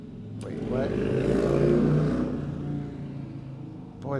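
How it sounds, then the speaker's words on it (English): A loud motorcycle passes outside, its engine rumble swelling to a peak midway and then fading away, heard indoors with a voice speaking over it. "Boy, that's a loud motorcycle."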